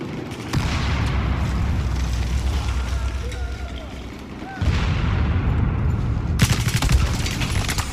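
Gunfire and explosions in Battlefield 4 multiplayer combat: a continuous, heavy barrage of booming shots and rapid fire with a loud blast midway, while someone talks over the noise.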